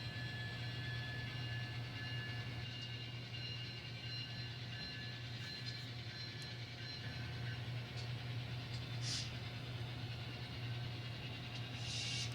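An N scale model train runs on freshly painted track in a layout, giving a steady, faint mechanical whir and hum that continues evenly throughout with no talking.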